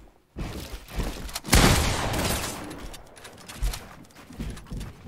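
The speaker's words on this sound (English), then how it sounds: "The shotgun's hitting hard." A shotgun fires in Fortnite Battle Royale, a few loud close blasts with heavy bursts of gunfire between quieter gaps.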